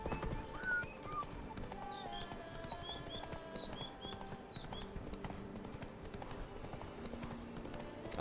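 Horse hooves clip-clop steadily through the whole stretch as the mount gallops in The Witcher 3 video game, with faint whinnies and layered game ambience and music underneath; no one speaks.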